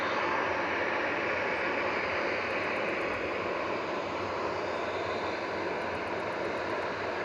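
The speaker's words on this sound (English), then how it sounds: "Tui's Whiskey Kilo GTAWK heading to Alicante with flight 2620." A TUI Boeing 737-800 departing Manchester Airport for Alicante gives a steady, loud broadband engine roar that holds evenly throughout, with no voices.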